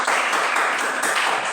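Classroom applause from a group of students: a steady, dense patter of hand claps filling the whole moment at an even, fairly loud level, with no voices over it.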